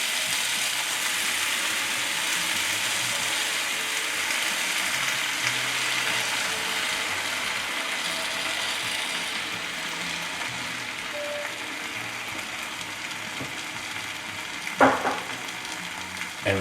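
Beaten egg sizzles steadily in a hot pan with sausage for an omelette, a constant frying hiss with a couple of brief utensil clinks near the end and no voices.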